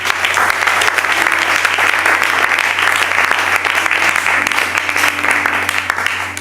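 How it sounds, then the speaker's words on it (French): A church congregation applauds steadily to acclaim God during a service, dense sustained clapping from a large crowd filling the room throughout, with a low hum beneath. "Amen, on va acclamer Dieu pour leur vie"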